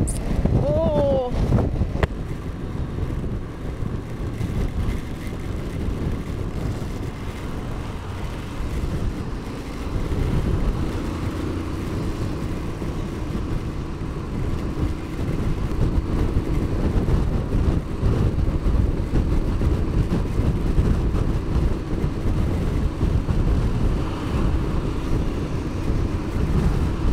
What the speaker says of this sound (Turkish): çok fena, çok rüzgar